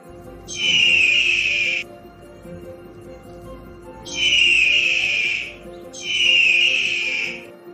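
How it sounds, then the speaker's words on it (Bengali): A young eagle calls in three drawn-out, whistling screeches, the first two separated by a long gap and the last two close together, loud and clear over a faint background. "ঈগলের বাচ্চা।"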